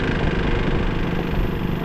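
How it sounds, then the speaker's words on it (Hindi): A KTM RC 200 motorcycle engine, reported as seized with low oil pressure, runs with a rough, steady, loud drone that fills the whole clip without any talking. "और आवाज़ सुनो आप, इंजन से कैसी आवाज़ आ रही है यार"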